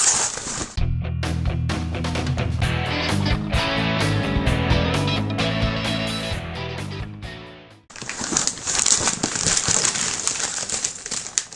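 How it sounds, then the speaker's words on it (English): A wrapped gift package containing a Halo Legendary Loot Crate is unwrapped up close, with loud, continuous crinkling and tearing of paper, a brief pause, then more rustling and rip sounds. "we got this gift here, and we're gonna unwrap it, and then unbox it"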